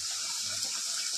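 Coconut palang pitha dropped into hot frying oil, giving a steady bright hiss and sizzle that holds at an even level with no talk.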